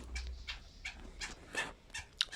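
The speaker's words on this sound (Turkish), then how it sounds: "Aa bu da evcilleşmiş köpek." Tamed dog in the video game Minecraft, giving several short whimpering yips and soft barks spaced through a couple of seconds, moderately quiet over a low background rumble.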